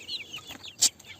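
Chickens on a small poultry farm cluck softly in short calls, with one sharper, louder squawk near the end, heard without talk.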